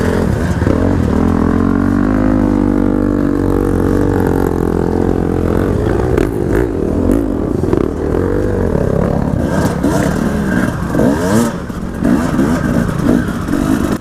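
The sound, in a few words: KTM 300 dirt bike engine during enduro race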